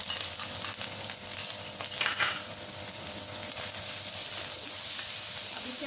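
Chopped onions, ginger and garlic frying in hot oil in a pan for a chicken curry, a steady, close sizzle and hiss with occasional stirring scrapes, and no voices.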